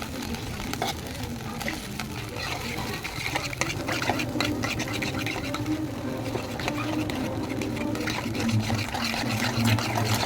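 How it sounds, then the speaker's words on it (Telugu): Cornflour mixed with water is poured into a pan of egg Manchurian, giving a soft liquid pouring and gentle sizzle with light clinks and stirring, moderately quiet. "ఇది వాటర్లో కలుపుకొని వేసుకోవాలి"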